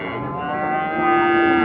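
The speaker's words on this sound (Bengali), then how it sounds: "আকর্ষণীয় খামার উপযোগী ফ্রিজিয়ান জাতের এই ষাঁড়টি।" A Friesian cross bull moos at a cattle market, one long sustained low bellow that swells louder toward the end, close and clear with no talk.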